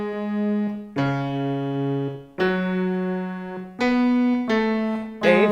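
A bass line from the single version of a song is played as six separate sustained notes, each plucked clearly and left to ring before the next, with no other instruments.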